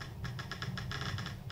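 The touch wheel on a Casio Privia PX-S7000 digital piano gives off about ten quick, light clicks in an irregular run while presets are scrolled, quiet and close with no speech.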